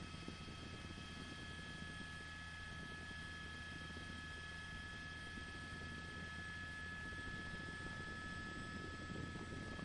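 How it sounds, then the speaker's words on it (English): A helicopter drones steadily overhead, its rotor and engine noise continuous and fairly faint throughout, with no voices. "They have the helicopter overhead."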